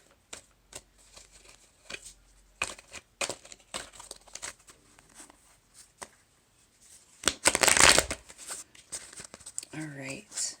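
A deck of tarot cards shuffled by hand, a series of quick riffling bursts with a louder flurry near the end, mixed with a voice talking between the shuffles.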